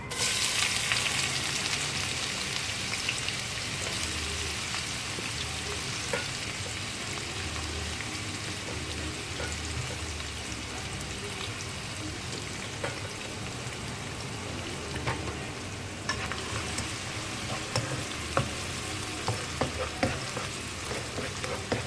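Onions sizzle steadily in hot oil in a pan for Indian-style pasta, a dense close crackling frying hiss with scattered clicks of stirring toward the end, no voices.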